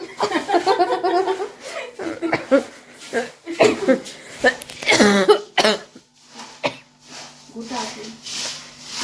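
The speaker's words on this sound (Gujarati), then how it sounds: "એટલે ઉધરસ આવે મરચાની" Several harsh coughs from eating chillies burst out among lively talk and laughter, close by, with brief pauses between fits.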